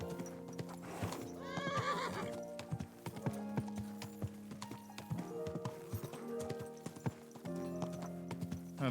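A video game horse clops its hooves in quick, close steps and lets out a loud whinny early on, with hoofbeats continuing in uneven clusters afterward.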